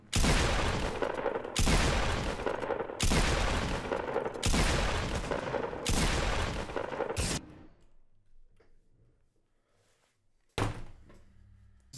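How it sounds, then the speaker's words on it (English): Long bursts of rapid gunfire from a weak gun in the video game Fortnite, five loud sustained volleys in a row, then a quiet pause and one short final burst. "ovo je najslabiji gun koji sam ja ikad vidio"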